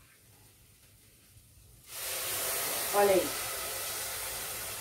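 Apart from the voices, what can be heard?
hot water poured into pan of rice, hissing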